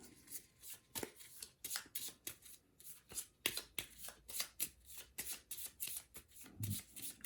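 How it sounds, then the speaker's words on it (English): Starting card decks for a Legendary Buffy the Vampire Slayer deck-building board game are shuffled by hand, a quiet run of rapid riffles and snaps repeating steadily for several seconds. "we got our starting decks all shuffled up"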